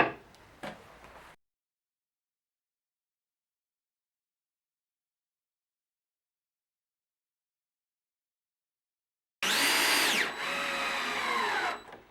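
A power driver sinks screws to fasten a carpenter's vise to a workbench. A short whirring burst is followed by long silence, then a louder whine of a couple of seconds that rises and falls in pitch.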